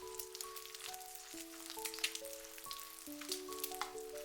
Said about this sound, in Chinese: 我们要把鸡蛋的两面都煎至金黄，煎出香味